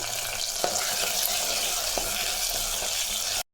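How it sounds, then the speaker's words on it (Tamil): Shallots sautéing in hot oil in a pan for brinjal kara kuzhambu give a steady close sizzle, with a few soft stirring knocks before the sound cuts off abruptly. "நல்லா சின்ன வெங்காயம் வதங்கட்டும்"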